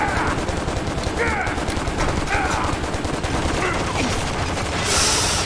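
Enemy gunfire aimed at the player in the action game Stranglehold, a dense, steady rattle of rapid shots that runs through the whole clip, with faint voices in the mix and a brief louder burst near the end.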